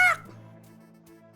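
A person voices a short, sharp chicken cluck, mimicking a flock of chickens during a tabletop Dungeons & Dragons game. The loud squawk fades quickly into a low lingering hum.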